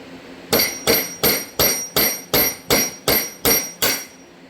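A 24-ounce sledge hammer striking a stuck case, nine sharp metallic blows in a steady, evenly spaced rhythm, loud and close.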